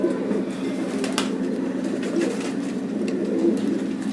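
A breeding pair of pigeons coos in a low, steady murmur throughout, with a few brief higher chirps and faint background noise.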